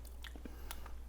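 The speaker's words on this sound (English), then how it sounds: "The cheese itself is kind of crunchy." Crisp bites into crunchy aged cheese drizzled with thick, sweet balsamic vinegar, giving a few short close crunches and chewing sounds spaced over about a second in a quiet room with a steady low hum.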